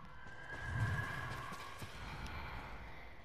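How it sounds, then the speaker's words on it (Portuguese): Horses in the snowy open world of Ghost of Tsushima whinny and snort while their hooves clop softly, heard fairly faintly against a steady background of wind and ambience. "Deixe os cavalos aqui."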